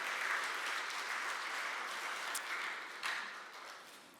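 Soft, even applause from a church congregation at a Sunday Easter worship service, a steady wash of many hands clapping that holds throughout and thins slightly toward the end.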